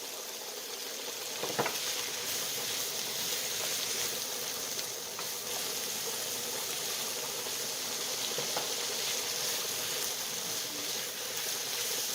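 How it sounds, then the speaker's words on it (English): Chicken, peppers and green beans sautéing in a pan for a stir fry, a steady close sizzle and crackle that continues throughout with a few soft stirring knocks. "I'll continue to saute this for another 2 minutes"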